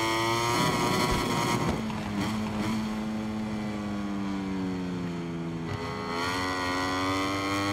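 A motorcycle in the MotoGP 23 racing game revs hard throughout, its high engine whine rising and shifting pitch through gear changes. It dips briefly near the start and again late, then climbs back, loud and steady with no talk.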